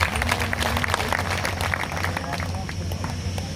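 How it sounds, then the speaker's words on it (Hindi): A rally crowd claps and cheers loudly and continuously, dense applause filling the whole stretch with a steady roar. "एक बार आप अपने आप के लिए जोरदार तालियां बजाइए साथियों।"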